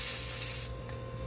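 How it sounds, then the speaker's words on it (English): Compressed air sprayed from a can to clear debris off a bone sample prepared for backscattered electron microscopy, a steady close hiss lasting the whole moment. "I'm going to just give it a spray of the air so that everything is clear"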